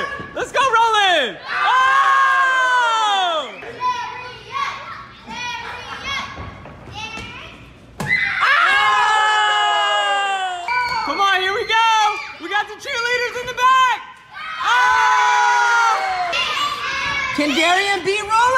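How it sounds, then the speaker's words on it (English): Children cheer, shout and whoop during a sticky-note game, with loud excited bursts broken by a brief lull, and some thumps mixed in. "the crowd's going crazy!"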